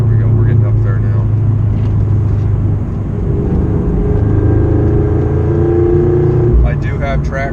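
A Scion FR-S car accelerating with traction and stability control off, its engine a loud, steady drone heard from inside the cabin, rising gradually in pitch, with a brief burst near the end.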